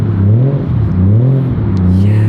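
A Toyota JZX100 Chaser engine revs loudly and close, its pitch rising and falling in smooth waves over a couple of seconds, with no talking.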